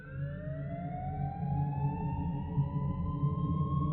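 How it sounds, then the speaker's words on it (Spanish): An ambulance siren sounds steadily at moderate distance, with a long rising tone over a low rumble of traffic. The siren is heard alone, with no voices. "Tan pronto escuché la sirena de la ambulancia, entendí que algo serio había ocurrido."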